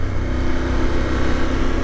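BMW GS motorcycle engine running with revs easing off while downshifting, a steady, loud, close mid-pitched engine drone with a low rumble.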